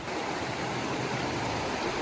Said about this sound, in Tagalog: Ang ganda na naman ng ilog.